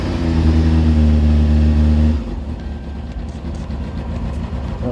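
A Kawasaki Ninja motorcycle engine with a newly fitted airbox idles close by, a strong steady low rumble for about two seconds before it drops to a quieter, rougher idle that continues alone.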